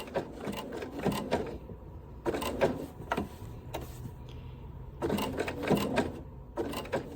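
A sewing machine stitches appliqué around small curves, running in short bursts of rapid mechanical chattering separated by brief pauses while the fabric is turned.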